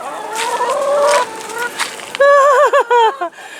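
Sapphire Gem hens kept for heavy egg laying cluck close by in rising, wavering calls, several overlapping at first, then a louder run of four or five quick clucks near the end.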